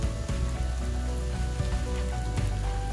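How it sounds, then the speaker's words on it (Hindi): An aloo paratha fries on its second side in a hot pan, giving a steady, close crackling sizzle like light rain with occasional sharper pops and no voices. "अब मैं इसे दूसरी तरफ से फ्राई करूंगी"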